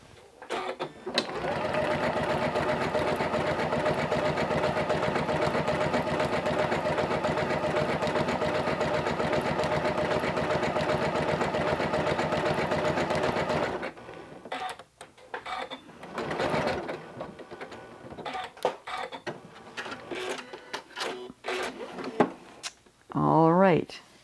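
A Janome CM17 sewing machine running steadily while stitching the Patchwork 2 decorative quilt stitch, a loud, even mechanical whirr for about fourteen seconds, then stopping, followed by quieter handling noises and a short burst of stitching at the end.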